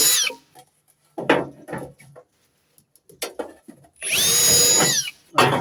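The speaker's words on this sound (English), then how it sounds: "just drill out your rivets." Power drill bores out rivets on a metal gutter corner in a loud, roughly one-second burst near the end, preceded by brief scraping and handling knocks.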